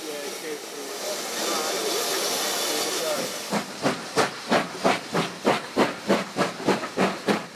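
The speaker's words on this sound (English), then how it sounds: "a Great Western tank engine was preparing to leave Embassy with a Saturday afternoon train" A Great Western steam tank engine lets out a broad hiss, then settles into rhythmic chuffing puffs, steady and fairly close, as it leaves a station with a train.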